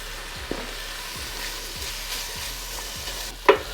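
Bacon frying over medium heat in a 6-quart Dutch oven, with a soft steady sizzle and a series of light stirring scrapes, close by, ending on a sharper clink.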